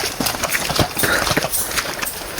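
Horse hooves clip-clop on the ground with quick, irregular strikes while copra is being loaded, steady and fairly close, with no talk over them.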